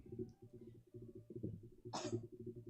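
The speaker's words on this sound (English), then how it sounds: "So sorry, I needed to cough." A single sharp cough bursts out close to the microphone over steady rhythmic background game music.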